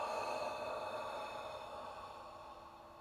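A single long, steady exhale during a guided meditation breathing exercise, soft breathy hiss fading gradually over a few seconds, close and quiet with no talking.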